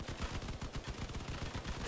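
Heavy machine gun firing in the vehicle combat game Crossout, a dense, steady stream of rapid shots that blur into a continuous rattle, loud and close, with no voices.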